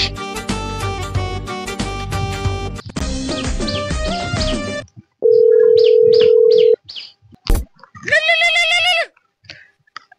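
A phone rings with a loud melodic tune, then a steady electronic beep and a few short chirping bursts.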